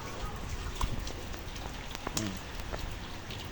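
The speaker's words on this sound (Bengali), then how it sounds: "দেখো বৃষ্টি আসছে" Rain falling steadily outdoors during a stormy morning, a soft continuous patter under scattered background voices.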